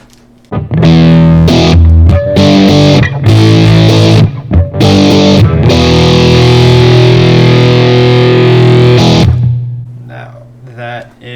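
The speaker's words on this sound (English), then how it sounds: "That is some Fuzz right there." Electric guitar played through a fuzz effect, loud saturated chords and sustained notes with a thick buzzy, hairy tone, chopped into several short stabs before a long ringing chord that cuts off.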